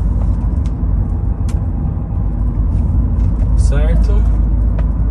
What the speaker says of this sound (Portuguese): Aqui eu vou colocar a terceira, porque o carro tava pedindo terceira.